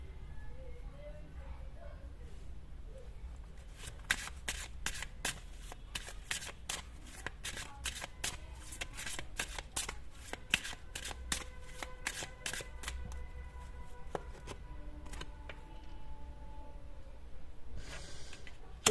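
Tarot cards being shuffled, a run of quick, crisp riffling bursts close up, with soft breathing and faint background hum between them.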